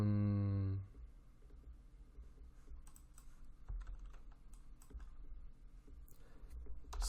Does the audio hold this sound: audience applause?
no